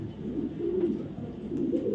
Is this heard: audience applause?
no